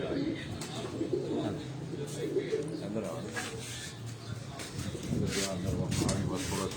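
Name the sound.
pigeons on a rooftop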